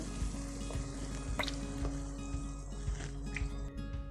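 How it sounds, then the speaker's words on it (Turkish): Chicken and mushrooms sizzle steadily in a pan as cream goes in for a creamy mushroom chicken sauté, with a constant close frying hiss and a few soft drips and pops. "İyice pişmeye başladıkları zaman artık kremasını ekliyorum üstüne."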